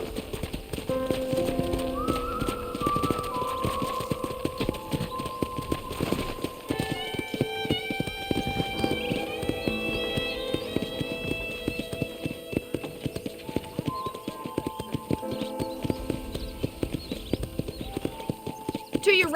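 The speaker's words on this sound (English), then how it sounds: "let's see if you can still ride a horse" Horse hooves clip-clop in a steady walking rhythm while riding in Red Dead Redemption, close and continuous under a speaking voice and background game music.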